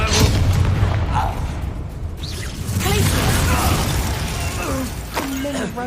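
A Bombarda blasting-spell explosion in the video game Hogwarts Legacy lands as a loud, close boom with shattering debris and mechanical rattles, while voices talk over the din.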